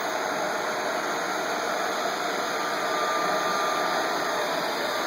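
A pump pushes vegetable oil up into two 330-gallon clean tanks, filling them in parallel, giving a steady, loud mechanical hum and whir that holds evenly with no pauses.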